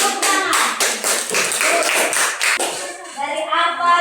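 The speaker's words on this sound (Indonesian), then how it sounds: "Oke, beri tepuk tangan." A small group, likely children, claps in a quick, uneven rhythm of distinct slaps at close range, with voices speaking over the clapping and taking over near the end.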